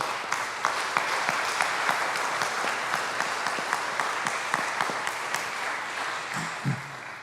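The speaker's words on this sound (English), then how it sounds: "Let's give them all a round of applause." Concert audience applauding steadily at close range, a dense wash of handclaps that holds at even loudness before beginning to taper near the end, with no voices over it.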